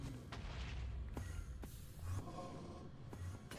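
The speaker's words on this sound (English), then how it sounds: "Dodge that explosion." Repeated booming blasts from explosions during a boss fight in the block-building game Mystical Block, several heavy thuds spaced across a few seconds over a steady noisy game soundtrack.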